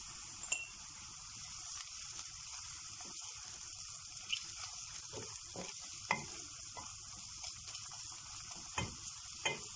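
Onions sautéing in a pan with red pepper flakes and paprika, a faint steady sizzle with scattered spoon taps and stirring clicks over about ten seconds, no speech.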